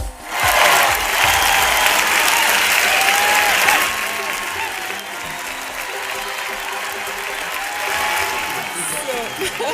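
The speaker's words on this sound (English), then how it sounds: "they had to have their round of applause here with us for the first time" A studio audience applauds to welcome guests on a talk show, a steady wash of clapping that eases slightly midway and continues under light voices.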